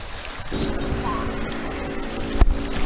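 Wind rushes over a double sea kayak under sail near Port Arthur, a steady broadband roar mixed with water noise and a low hum, with one brief knock near the end.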